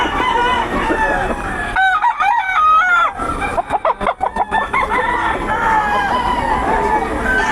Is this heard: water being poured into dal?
no